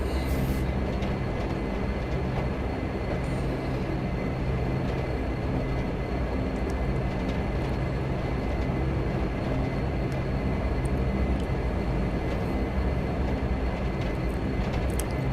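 A Dash-8 turboprop airliner takes off from Barbados in the Prepar3D v5 flight simulator, with a loud, steady engine roar and rumble holding evenly throughout and no voices over it.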